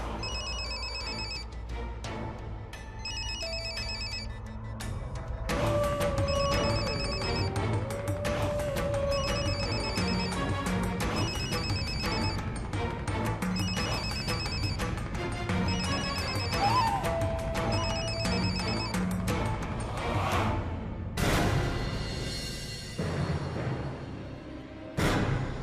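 A telephone bell rings in short repeated double bursts over a dramatic music score from a Hindi TV serial. The rings come loud and evenly spaced, rising over swelling music and ending in a whoosh.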